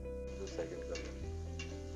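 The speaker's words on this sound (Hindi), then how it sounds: "प्याज को मैंने हल्का सा ब्राउन कर लिया है" Onions browning lightly in oil for a pumpkin and ginger soup give a soft, steady sizzle under a low background hum, with faint clinks of a utensil against the pan.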